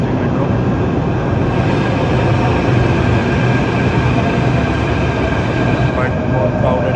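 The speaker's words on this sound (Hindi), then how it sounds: "फॉर्चुनेटली ज़्यादा वेट नहीं करना पड़ा, विदिन 2 मिनट्स आ गई है मेट्रो" A metro train pulls into a busy station with a loud, steady rumble and rising rail noise, while crowd chatter runs underneath.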